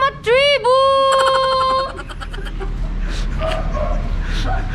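A dog barks and yips in a few sharp, close calls at the start, then the yelping fades under ongoing voices and background noise.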